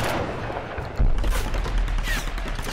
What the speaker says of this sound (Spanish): aquel idiota sigue disparando desde allá lejos